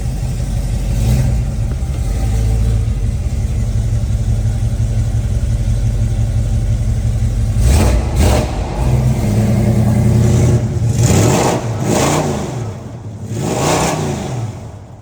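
A 1973 Plymouth Cuda with a 440 V8 fires up cold and idles with a loud, lumpy rumble, then takes a few sharp throttle blips near the end, close and alone.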